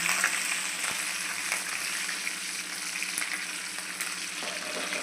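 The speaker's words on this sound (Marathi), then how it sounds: "हिरवी मिरची चांगलं तडका." Green chillies crackle in hot tempering oil with cumin, a loud, steady frying hiss with a few light knocks of a spoon against the pan.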